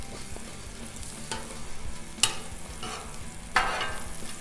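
Peanut oil and butter sizzle on a Blackstone griddle, a moderate crackling hiss with a sharp scrape or clack midway and a louder burst of sizzle near the end.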